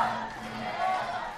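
Wrestling crowd cheering for Baylum Lynx at a live match, a steady, fairly loud roar of many voices that swells slightly midway, with a commentator talking over it.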